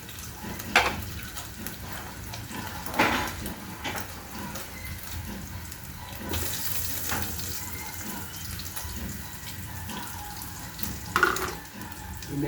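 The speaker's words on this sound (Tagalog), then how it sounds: "lalagyan na natin ang ating sibuyas at bawang" Onion and garlic frying in a pan with meat for a vegetable dish, a steady hiss and sizzle broken by a few scraping stirs and clinks, close and fairly quiet, no talking.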